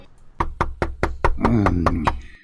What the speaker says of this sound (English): Unexpectedly, there's a knock at the door.